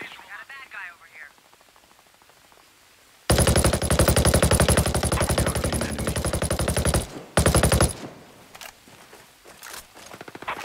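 In the Ghost Recon Breakpoint video game, loud sustained automatic gunfire bursts in after a quiet start, stops briefly and then resumes. Faint radio-style chatter comes first.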